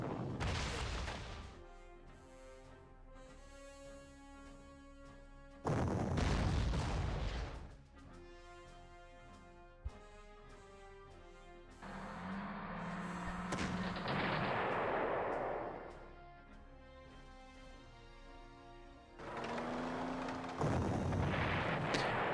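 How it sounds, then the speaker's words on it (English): Artillery in a WWII strategy game fires heavy booming shots, several loud blasts separated by rumbling, echoing decay, along with a sharp crack and long stretches of low battle ambience. "Artillery."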